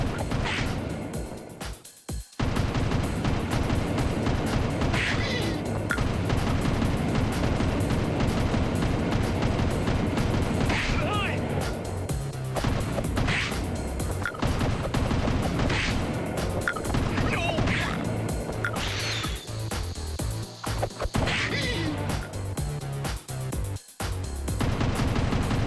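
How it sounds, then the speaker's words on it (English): Fireworks in the Darkwing Duck video game burst in rapid, repeated loud explosions over a busy, continuous game soundtrack, with sharp cracks scattered through the whole stretch. "these fireworks have an AoE explosion on them"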